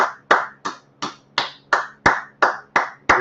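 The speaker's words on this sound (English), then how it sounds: "Clap it up. Clap it up." Ten sharp, evenly spaced hand claps ring out close and loud at a steady rhythm, each cutting off cleanly before the next, with no voices over them.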